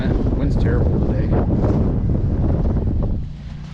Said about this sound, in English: the wind's terrible today